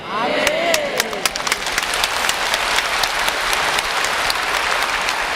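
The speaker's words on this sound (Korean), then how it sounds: "지금은 여러분 박수를 치지만" Audience applause at a church sermon, a dense burst of many hands clapping at close range that continues steadily and then slowly thins out.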